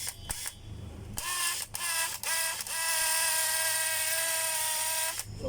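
A DeWalt DCD985 cordless hammer drill runs in hammer mode, a loud, steady whining buzz with a rattling edge, started in several short bursts before holding for about three seconds, close up with no talking.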